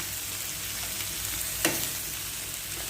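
Rice frying in a pan for homemade fried rice gives a steady, loud sizzling hiss, broken once by a brief sharp clank of utensil on pan.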